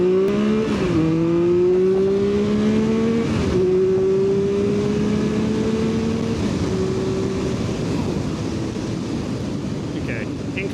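A Triumph motorcycle launches hard from a standstill, its loud engine note climbing steadily and dropping at a couple of gear changes as it pulls away under heavy rushing wind noise.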